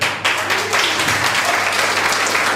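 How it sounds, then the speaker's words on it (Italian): A festival audience at a Neapolitan song contest in San Felice a Cancello claps for a singer taking the stage, a dense, steady wash of applause from a full hall that holds at an even level throughout. "L'applauso è proprio leggero"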